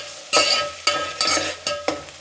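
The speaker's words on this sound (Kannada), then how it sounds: "ಇವಾಗ ಮಾವಿನಕಾಯಿ ಹಾಕೋಣ" Raw mango pieces tipped into a pot of Kerala-style fish curry, giving five sharp splashing, sizzling bursts in steady succession, each fading into a bubbling hiss, close and loud with no talk.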